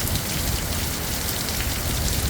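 Wind-driven rain pours hard and steady in Georgia, a loud dense hiss of drops hitting surfaces with no voices.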